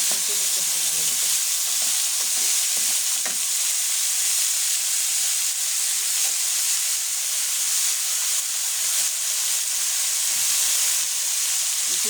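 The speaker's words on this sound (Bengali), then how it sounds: "সবজিটা একটু ভেজে নিতে হয় ভালোভাবে" Vegetables frying in a pan for a Bengali mixed-vegetable dish, a steady loud hiss and sizzle throughout with faint stirring clatter, no talk.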